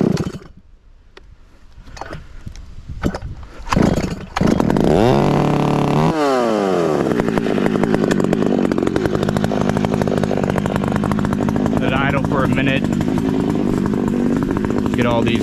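Chainsaw, a Farmertec G888 or Stihl 400C set up for cutting firewood, handled with a few clinks, then pulled to start and roaring loud and close, with revving before it settles into a steady high idle as it warms up.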